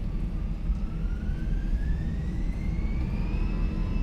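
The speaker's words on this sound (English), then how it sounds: "I want to hear that, and I want to hear the engines like at maximum." Airbus A320 engines spool at takeoff thrust in Microsoft Flight Simulator 2020, a steady loud jet roar with a rising whine climbing across the span, heard from the cabin without speech.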